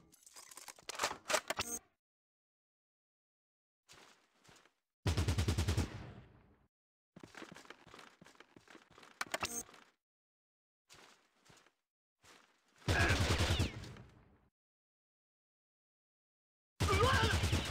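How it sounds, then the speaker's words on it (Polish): Gunfire in the video game Fallout Tactics comes in several separate bursts of rapid shots with silent gaps between them, loud and sharp, some volleys longer than others. "Nie podoba mi się w ogóle ten strzał przez ścianę."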